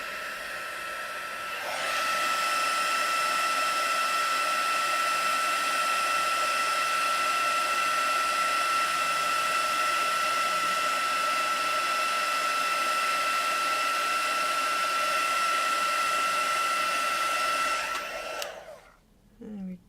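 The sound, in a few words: heat tool heating a pop-up card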